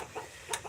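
Farm chickens cluck softly in a few short bursts close by, faint against quiet background noise.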